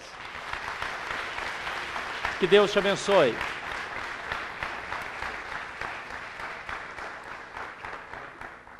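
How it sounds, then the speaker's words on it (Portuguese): A church congregation gives a strong round of applause, steady clapping throughout while a voice speaks briefly over it. "uma forte salva de palmas"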